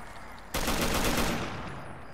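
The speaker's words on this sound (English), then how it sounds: "What are you shooting at, Jerry?" Gunfire in the game Fallout 3 bursts in suddenly as a dense, loud rattling volley lasting just under a second, then decays into a fading echo.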